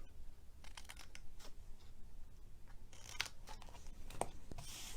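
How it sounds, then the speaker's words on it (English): Scissors snip corners off paper for an Easter egg treat box, giving several quiet, brief crisp cuts scattered irregularly over a faint background, close by with no talking. "I'm just going to cut these corners."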